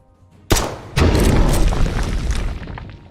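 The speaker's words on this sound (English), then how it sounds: "he just exploded" A unit exploding after being sniped in the turn-based fantasy strategy game Master of Magic, one sharp crack followed by a loud, booming blast that rumbles on and fades over a few seconds, alone.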